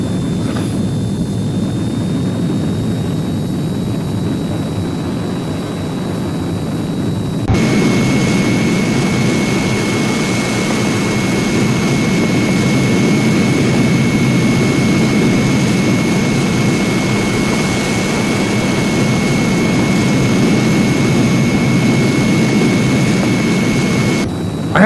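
A Heinkel He 162 jet engine drones steadily in flight in a flight simulator game, a loud continuous roar with a whining tone that shifts and intensifies partway through as power changes.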